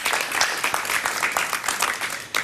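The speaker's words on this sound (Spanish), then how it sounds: "Un aplauso para ellas, por favor." A studio audience on a talk show claps at a moderate level. The separate claps come through in a quick, steady rhythm over a short stretch.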